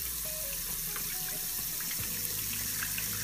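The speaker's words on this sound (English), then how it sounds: "warm water coming right out of your sink." Warm water runs steadily from a sink tap into a glass baking pan, a continuous even splashing flow that stays close and alone without talk.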